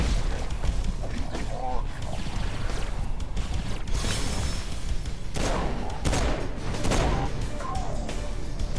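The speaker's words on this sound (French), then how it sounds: "Ok, on va essayer avec le flingue." Gunfire in Saints Row IV, a dense, continuous run of loud shots and booming impacts with mechanical clatter, sustained throughout with brief sharper bursts standing out.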